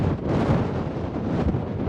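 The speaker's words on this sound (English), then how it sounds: "It's windy." Steady wind buffeting the microphone, a continuous low rumble with no breaks and no voices, close and fairly loud throughout.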